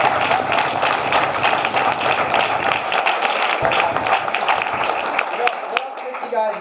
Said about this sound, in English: Another round of applause for Mike.